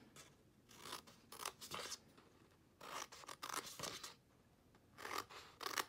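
Scissors cutting gift box paper along score lines, several short rasping snips in bursts separated by pauses, close up and fairly quiet.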